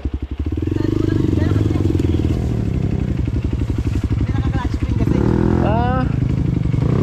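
A loud motorcycle engine runs steadily close by with a throbbing low rumble and occasional revving, while people talk over it throughout.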